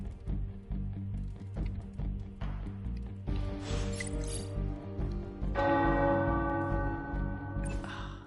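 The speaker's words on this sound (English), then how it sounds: "Bells are ringing." Church bells ring out in the video game Midnight Suns, a steady run of loud, overlapping peals that grows fuller partway through, with game music and ambience underneath and no one talking.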